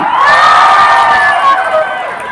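A crowd at an outdoor charter day celebration show in Valencia City, Bukidnon, shouting and cheering loudly together with clapping, a brief close burst of massed voices that fades slightly at the end.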